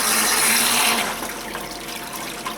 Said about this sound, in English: And we're going to be draining into our bucket.